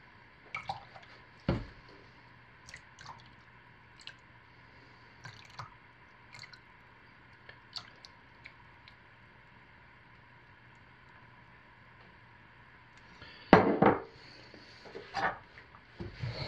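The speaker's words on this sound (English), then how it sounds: "But I think I'm probably going to hand stir it just the same." Fragrance being hand-stirred into soap batter, with sparse, quiet scrapes and soft taps spread across a low background hum and a brief louder clatter near the end, with no talking.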